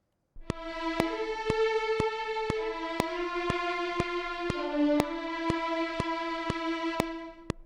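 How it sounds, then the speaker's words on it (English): Sustained Cinematic Studio Strings play a connected legato phrase with timing compensation, attacks landing on the beat, notes flowing into one another over a regular, sharp metronome tick. "Here we have a simple legato phrase I've written for Cinematic Studio strings"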